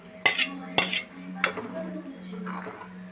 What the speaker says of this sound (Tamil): தேங்காயை ஊற்றி நல்லா கிண்டி ஒரு கொதிக்கணும்.